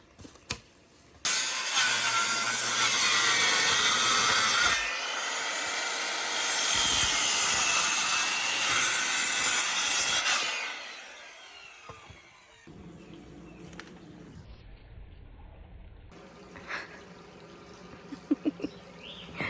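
A small Genesis power saw cuts through treated wood for a cabin deck and stairs build, with two loud, close cutting runs separated by a brief dip, then the motor winds down and handling noises follow.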